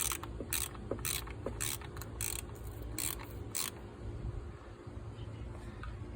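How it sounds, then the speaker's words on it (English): A hand ratchet tightens a camshaft position sensor on a BMW engine, giving a run of about nine crisp clicks in the first half, with quiet background noise afterward and no talking. "the last step is just to tighten up the cam sensor"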